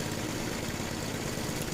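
A Murray Estate dual stage snow blower engine idles slightly fast, a steady, even small-engine drone heard up close with no voices over it.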